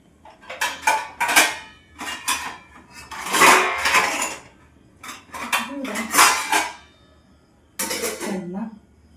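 Cooking pot lid and metal pans clank and scrape in a home kitchen, with repeated loud bursts of clattering separated by short pauses while the pot is covered and handled.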